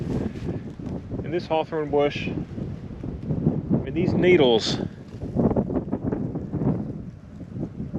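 Gusty wind buffeting the microphone outdoors among hawthorn bushes and needled brush, a constant low rumble under someone talking.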